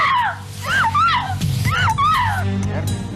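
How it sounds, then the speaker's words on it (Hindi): A woman's screams ring out, loud, rising and falling wails in a dramatic crime-drama scene, with a voice briefly between them. "यार रमेश, भाभी जी की चीखने की आवाज है।"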